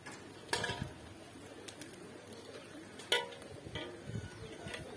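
Pet flying pigeons coo in soft, low calls outdoors, with a couple of sharper bird notes and faint background noise, no talking.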